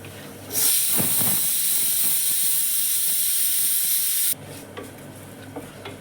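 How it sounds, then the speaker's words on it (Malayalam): Kashmiri chili powder fries in hot oil with shallots and onion in a pan, giving a loud, close, steady hiss that starts abruptly and cuts off after about four seconds, with faint stirring scrapes around it. "നമ്മുടെ മുളക് നല്ലപോലെ മൂത്ത് വന്നിട്ടുണ്ട്"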